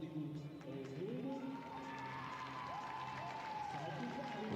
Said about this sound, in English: There's some cheers in the crowd there